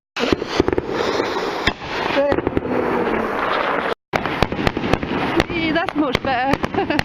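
Bonfire night fireworks in the UK burst in a rapid series of sharp bangs and crackles with whistling, rising streaks, a loud continuous barrage close by, while people talk over the noise.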